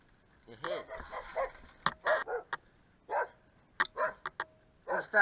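A dog barks at mountain bikers on a trail, several short barks scattered among people talking, fairly close and mixed in with the voices.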